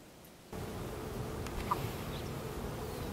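Honey bees buzz in a low, continuous drone at an open hive during queen rearing, fairly faint and steady, with no talking.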